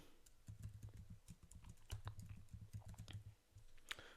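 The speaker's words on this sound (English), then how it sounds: "I'm going to type my email." An email address being typed on a computer keyboard, a quick, quiet patter of close key clicks in an uneven rhythm, with a short pause before a final few taps.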